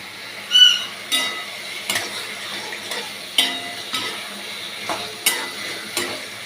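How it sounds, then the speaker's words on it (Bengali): Meat frying with spices and green chilli in a pan is stirred, giving soft sizzling under repeated scraping strokes of a spoon against the pan at a steady, close pace. "এবার মাংসটা দিয়ে দিই, নিয়ে কষাতে থাকি।"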